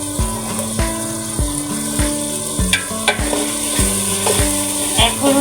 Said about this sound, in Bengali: এখন হচ্ছে মশলাটা কিন্তু খুব ভালো করে কষিয়ে নেব।